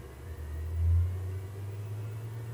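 Cooling fan of an HP Pavilion Slimline s7410n desktop computer spins at a steady speed, a low, quiet hum with slight grumble that swells briefly then settles, with no voices.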